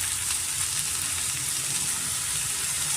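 Vegetables for a spring aloo kurma, with carrot, spring onion and capsicum, frying in a pan over medium flame: a steady, dense sizzle heard close and alone, without talk.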